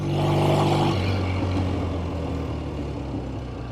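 A 1970 Triumph TR6 Tiger motorcycle engine drones steadily while riding, a loud, close low rumble with a brief rise early on, then settling into an even, continuous hum.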